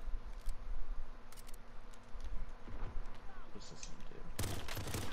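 Shotgun fire in Call of Duty Warzone, a burst of loud broadband blasts near the end over steady game noise and scattered earlier shots, with voices talking throughout.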